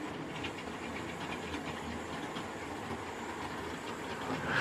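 A small model train set with a brake van, a carriage and two wagons rolls along its track, making a steady, fairly quiet rumble with faint rhythmic clicking throughout.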